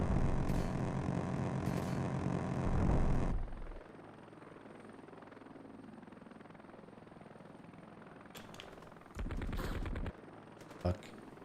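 Steady helicopter rotor and engine drone in the Heliborne combat game, with a loud burst of enemy machine gun fire at first, then a second short burst later over the continuing rotor noise.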